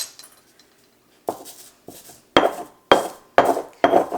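Dried chives are crumbled into smaller pieces, making sharp, dry crunching bursts up close, about six in an irregular rhythm after a quiet start.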